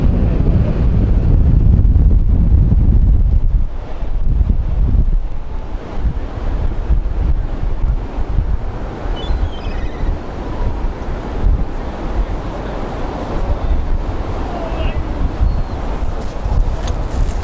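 Strong February wind buffets the microphone on a beach with a pier in the distance while surf roars steadily underneath, loud and constant with no voices.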